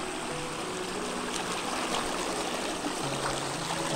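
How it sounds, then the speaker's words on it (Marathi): Clear water runs from a natural spring in a rural area, a steady, close burbling trickle with no voices. "मित्रांनो, इथं मस्त असं झिरा आहे. एकदम स्वच्छ नितळ पाणी आहे इथं."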